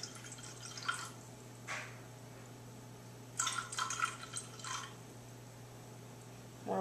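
Room-temperature water trickles slowly into a container set on a kitchen scale while fondant is being made, heard as faint, intermittent drips and short pours against a steady low hum.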